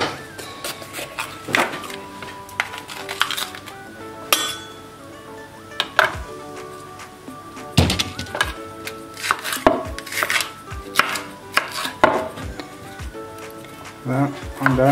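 A green bell pepper being chopped on a board for a gari (cassava semolina) dish, irregular knife thunks and clinks of kitchenware, close and distinct, with a voice speaking in French between cuts.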